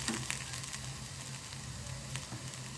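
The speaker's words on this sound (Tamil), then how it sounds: "நல்லா மிக்ஸ் பண்ணிக்கோங்க" Potato bonda filling sizzles softly in a pan as it is mixed, a faint steady frying crackle with a few light scrapes and taps of the spoon, no voices.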